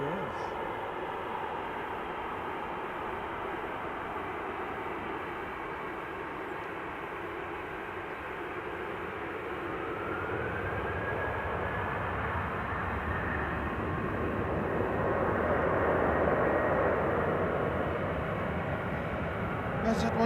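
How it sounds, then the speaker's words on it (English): A WestJet airliner departs toward Calgary. It is heard as a distant, broad jet roar that slowly swells and grows louder toward the end, with a faint rising whine partway through. "this WestJet is heading to Calgary now, I can see it."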